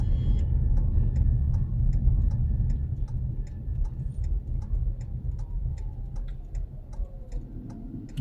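A car's turn signal ticks in a steady, evenly spaced rhythm while the car is parked during a driving lesson, the clicks sitting close and clear over a low idling engine rumble.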